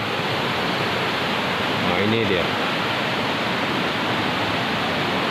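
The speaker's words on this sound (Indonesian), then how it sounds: "Nah, ini sungai di belakang." Muddy river still swollen and murky after a cold lava flood, sending out a steady, loud broadband rush of flowing water, with a brief spoken remark midway over the noise.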